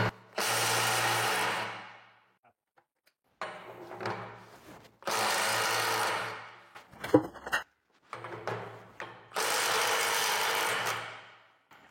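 A Milwaukee M12 12V impact wrench in mode 3 loosens screws in four loud bursts of rapid hammering, each about one to two seconds long, separated by short pauses with faint clinks and handling noise.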